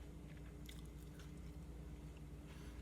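Close, quiet chewing of food with soft crunching bites over a faint background hum, as someone eats on the first days of re-feeding after a 75-day water fast.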